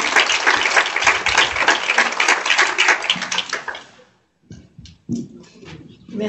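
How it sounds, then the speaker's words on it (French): Audience applause greeting a guest speaker at a conference, a full round of clapping that fades out after about four seconds, followed by a brief pause, a few stray sounds, then a voice beginning to speak. "j'ai envie qu'on l'applaudisse"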